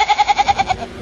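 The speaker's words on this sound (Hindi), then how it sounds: "बकरियों की आवाज आ रही है," Goats bleat in a quick series of about eight pulsing, wavering calls, loud and close, fading out at the end with no speech over them.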